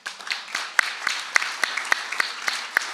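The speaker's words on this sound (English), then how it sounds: "So everybody give your country a round of applause for a second." At a Moldovan-American convention, an audience gives a brief round of applause, scattered claps of several hands building into a moderate, lively patter.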